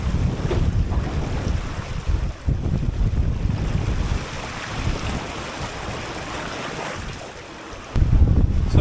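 Ocean waves around two meters high slosh and break against a 21-foot home-built sailboat on a solo Atlantic crossing, with strong wind buffeting the microphone in a steady loud roar that surges again near the end.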